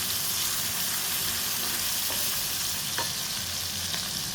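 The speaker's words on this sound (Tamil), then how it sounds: "சின்ன வெங்காயம் 2 கைப்பிடி, பெரிய வெங்காயம் 1 கைப்பிடி போட்டு நல்லா கொஞ்சம் வதங்கிடுங்க" Two handfuls of small shallots and a handful of big onions sauté in a pan for a South Indian fish curry, giving a steady, even sizzle with faint occasional stirring taps, close and quiet, with no speech.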